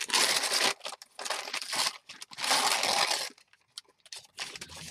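A Hungry Jack's paper bag is crinkled and rustled up close in several loud bursts separated by short pauses, with no talking.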